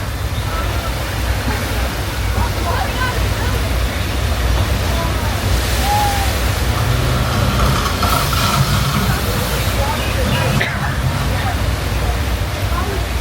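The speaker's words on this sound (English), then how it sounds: "There's too much water. We got a flash flood." A staged flash flood on the Universal Studios Hollywood studio tour sends thousands of gallons of recycled water rushing down a hill, a loud continuous roar and splash heard from the tour tram under the guide's voice and the rider's talk.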